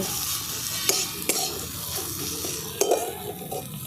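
Pointed gourd and prawns being stir-fried dry in a pan, a bright continuous sizzle broken by several sharp scrapes and knocks of the spatula.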